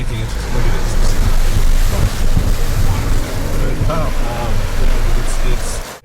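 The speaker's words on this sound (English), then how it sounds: "we're going to show the vehicle water fording, and every Renegade can water ford up to 19 inches" A 2015 Jeep Renegade fords water up to about 19 inches deep, giving a loud continuous rush and churn of water with wind buffeting the microphone before it cuts off abruptly.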